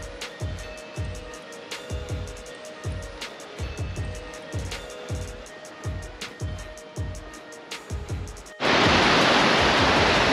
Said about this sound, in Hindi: काफ़ी पानी है नाले में, बहुत ज़बरदस्त